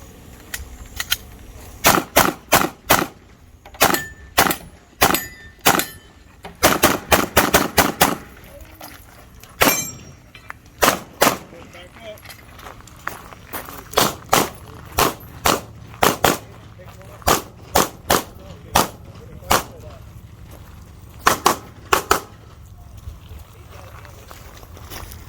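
Rapid pistol shots ring out at a USPSA practical shooting stage, loud sharp cracks fired in quick strings and doubles with short pauses between bursts over about twenty-five seconds.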